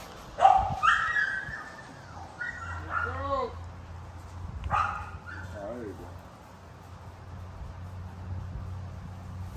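Puppies for sale at a camp yipping and barking in short bursts, with whimpers and a few higher yelps, moderately close amid a low background hum.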